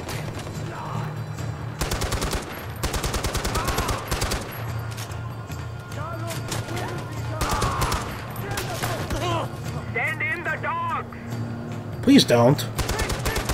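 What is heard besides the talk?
gunfire from enemies in the video game Far Cry 4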